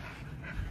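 A dog near a cage pants in quick, breathy rhythmic puffs, close and fairly quiet against low background rumble.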